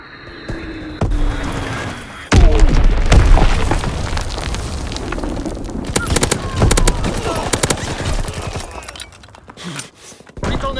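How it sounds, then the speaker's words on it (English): Bomb explosions in the World War II shooter Call of Duty: WWII on the Gustav Cannon map: a loud, heavy blast hits suddenly, then a long rumbling roar follows, with gunfire crackling around it and game voices calling out. "Enemy bomb incoming. Get to cover."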